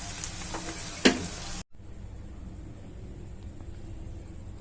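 Chicken fries in a pan with a loud, dense sizzle and a sharp clatter, then cuts off abruptly to a quiet, even background hiss.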